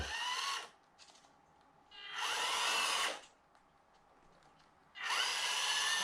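An FMS Atlas 6x6 1/18-scale RC crawler's electric motor runs at speed with a high whine, in three separate bursts. Quiet gaps fall between them.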